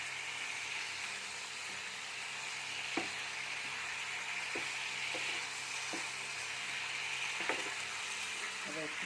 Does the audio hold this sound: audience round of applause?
no